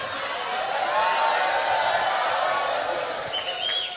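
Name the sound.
audience applause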